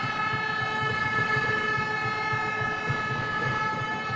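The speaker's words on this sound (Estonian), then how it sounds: "Ja pasunad on siin puhuma pandud" Spectators blowing horns at a Pärnu versus Valga men's basketball league game in an arena, a sustained blaring horn drone held steadily throughout with crowd noise beneath it.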